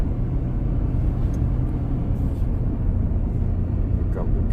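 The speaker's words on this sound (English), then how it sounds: "Here comes the truck coming" A truck on a desert road approaches as a broad, steady low rumble of engine and tire noise, moderately loud and continuous, with faint wind in the background and no talk.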